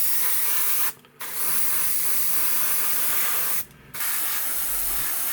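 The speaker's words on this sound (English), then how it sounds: "I'm spraying now the main paint on that comes with the kit, and I've thinned it with Tamiya RX20" An airbrush sprays a model kit's paint thinned with Tamiya thinner onto an Airfix starter set model, giving a loud, continuous hiss broken by two brief pauses as the trigger is released.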